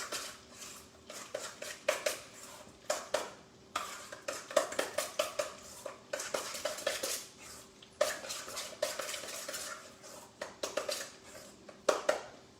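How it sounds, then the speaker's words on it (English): Whole-milk ricotta, egg, cheese, garlic salt and parsley filling being stirred in a bowl, with steady clinks and scrapes of a utensil against the dish and a rhythmic run of mixing strokes close by. "we have fresh milk, whole milk ricotta, 1 egg, cheese, garlic salt, and parsley. And then just mix it up good."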